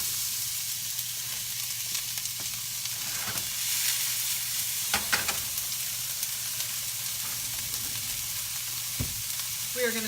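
Onions fry in ghee with a constant crackling sizzle, broken by occasional scrapes and clinks of stirring, and no voices.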